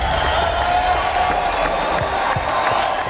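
Loud, dense crowd cheering, clapping and hooting fills a hall for a singer at a contest grand finale, a sustained roar with scattered whoops and no clear talk.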